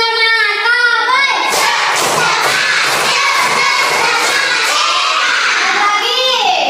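A group of children perform a rhythmic clap chant together, shouting in unison over loud, regular bursts of clapping, close and energetic from start to finish.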